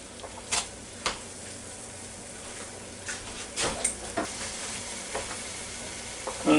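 Pound of Jimmy Dean pork sausage sizzling steadily in a Ninja Foodi pot, a constant broadband crackle with scattered sharper pops and scraping stirs, close and moderately loud with no talking.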